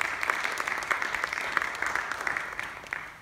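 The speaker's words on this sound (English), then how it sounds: "please give a huge round of applause for all of our sponsors" Sustained audience applause for the sponsors at a Peter Pan pantomime in Liverpool, dense steady clapping from a large crowd throughout with no talk over it.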